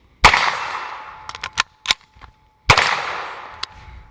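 A Colt 6450 9mm submachine gun fires outdoors: a sharp report, then a few quick single shots and a final loud report, each echoing briefly, heard close and loud.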